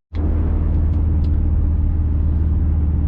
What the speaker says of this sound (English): Now we know the crank is in the right spot, so it should at least crank over.